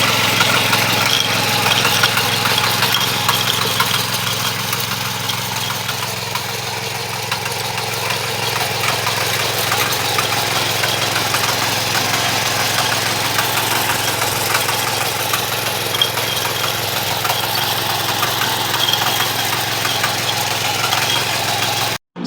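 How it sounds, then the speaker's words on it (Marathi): An Indian Agro 7 HP power weeder with a rotavator runs in a chilli field, its engine holding a steady, close, knocking idle-like drone throughout with no speech. "7 HP इंडियन पॉवर विडर कोळपणी यंत्र."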